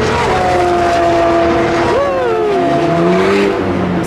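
Engines of race cars, including a Nissan GT-R, whine and shift pitch as they pass around a track, loud and continuous, with rising and falling tones.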